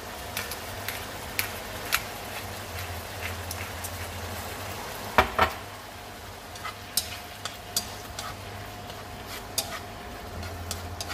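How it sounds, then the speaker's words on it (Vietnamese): Oysters being stir-fried with seasoning in a pan give off a faint, steady sizzle. Scattered sharp clicks and taps of a utensil against the pan sound up close, with one louder clatter midway. "Cái này thì mình xào cho nó thấm gia vị tí thôi, không có cần xào kỹ quá đâu cả nhà"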